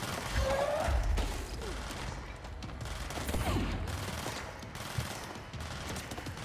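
Rapid gunfire bursts in the video game Control rattle on and off in dense volleys over a busy game soundscape, at moderate loudness with occasional heavier thuds.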